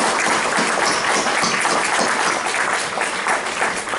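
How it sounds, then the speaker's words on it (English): A steady, dense round of applause fills the room for outgoing members of the Coquille Chamber of Commerce board, with many hands clapping evenly throughout at a fairly loud level. "So a warm round of applause for the folks that served on the board."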